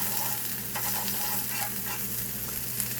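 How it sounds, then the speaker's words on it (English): Raw hashbrown potatoes fry in unsalted butter in a pan, giving a steady, close, crackling sizzle with no talking. "you gotta have a certain sizzle. And you know it's frying."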